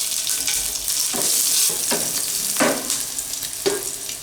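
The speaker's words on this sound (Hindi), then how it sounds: "अब हमें इसमें डालना है थोड़ी सी हल्दी, और डालेंगे कटी हुई हरी मिर्च," Turmeric and chopped green chillies sizzle loudly in a hot pan of oil for papaya chutney, a continuous close frying hiss broken by several rhythmic scraping stirs of a spoon.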